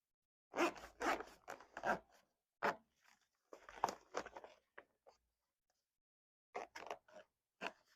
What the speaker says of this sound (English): as I'm zipping, I'm pushing the foam into one direction and zipping in the other.